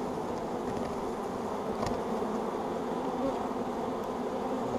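A honey bee swarm buzzes around a hive in a steady, dense drone that is continuous and moderately close, with no talk over it.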